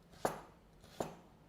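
A knife cuts through an onion on a cutting board while bruschetta is prepared, making two distinct, close chops about three quarters of a second apart in an otherwise quiet kitchen.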